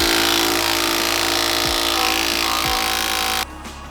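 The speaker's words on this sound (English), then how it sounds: "I recently got one of these Milwaukee right angle impacts. It's a good chance to use it if I can get the socket on" A Milwaukee right-angle impact wrench loosens bolts in a loud, steady mechanical drone, with two short breaks in its rhythm before the motor cuts off near the end.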